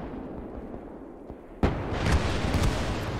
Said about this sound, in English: let's try an artillery gun on top of that tank